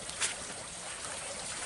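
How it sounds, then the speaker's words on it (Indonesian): Water flows continuously outside a bathroom, a steady hiss of running water with a brief splashier spurt near the start. "Di sini air mengalir sampai jauh ya."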